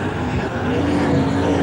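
Dirt track super saloon race car with a 415 Chevy engine roaring down the back straight at Palmerston North, a loud continuous engine growl with a rising tone as it passes.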